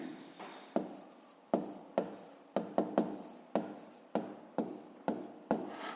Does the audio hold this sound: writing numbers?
yes